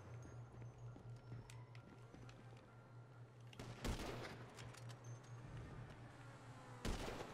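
Gunfire aimed at car tires in the video game GTA V, with two sharp bursts of shots standing out against a steady hum of game background noise.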